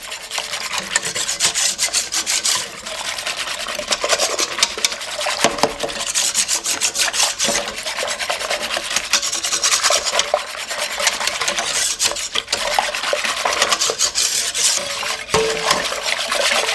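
A trifle mixture is whisked briskly in a bowl, making a continuous, close rhythmic scraping and rubbing that runs with short pauses throughout, with no talking.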